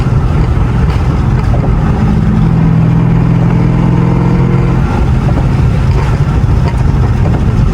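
A car engine revs up to about 2,800 RPM and drops back, a loud steady drone with a rising tonal hum in the middle before easing off, heard from inside the car.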